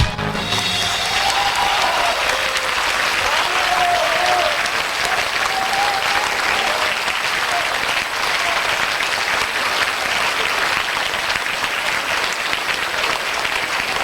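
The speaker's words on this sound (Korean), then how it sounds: "관객들은 앙코르를 외치며 기립박수를 쳤다." Standing ovation from a concert audience at a 1988 Beijing show, sustained dense clapping that carries on at an even level throughout, with faint calls mixed in.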